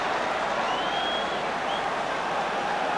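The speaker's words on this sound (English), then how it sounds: "The Scottish fans cheer." Scottish rugby fans in a packed stadium at a 1991 World Cup semi-final against England, a steady roar of crowd cheering and applause with a faint whistle rising briefly over it.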